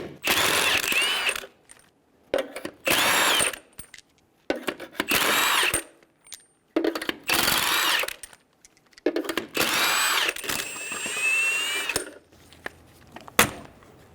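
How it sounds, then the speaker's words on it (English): Power tool spinning off the lug nuts on the front wheel of a 2005-2015 Toyota Tacoma with a 21mm socket, in a run of loud close bursts separated by short pauses. "remove the 6 lug nuts."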